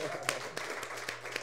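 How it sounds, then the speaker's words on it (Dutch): Light applause from a small jazz club audience for drummer Hugo Winkel: sparse, evenly spaced single claps, soft and somewhat distant. "Mag ik een groot applaus? Hugo Winkel op drums"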